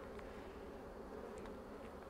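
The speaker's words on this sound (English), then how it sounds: "There are so many bees in here." Honey bees in an opened beehive buzz softly and steadily, a dense hum with a few brief louder passes as single bees fly near.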